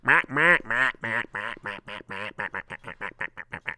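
A comedian on stage imitates a duck with his voice: about fifteen loud, nasal quacks in a rapid run that get shorter and choppier toward the end.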